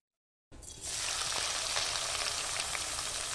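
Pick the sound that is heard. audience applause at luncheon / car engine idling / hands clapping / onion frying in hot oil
onion frying in hot oil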